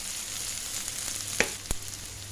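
Okra frying in a pan with chopped tomato and turmeric, a steady close sizzle with two sharp utensil clicks against the pan near the end.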